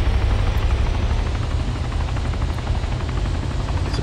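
A helicopter in the DayZ mod for Arma 2, its steady, loud rotor thump and engine drone holding constant and close with no talking over it.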